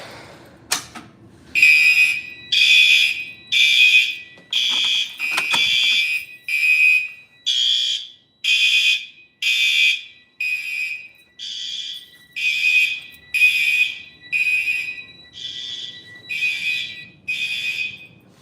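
A building fire alarm system under test sounds a loud, close, pulsing electronic tone in regular on-off bursts that repeat steadily for the whole stretch, with a few mechanical clicks near the start.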